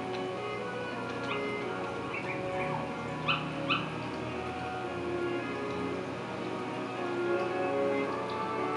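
Dalmatian puppies in the Kingdom Hearts video game whimper and yip in a few short, high cries set against a steady bed of game music and ambience, with no talking.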